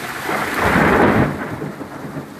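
A heavy early-morning thunderstorm brings a loud, close rumble of thunder that swells and fades over steady pouring rain, with no talk.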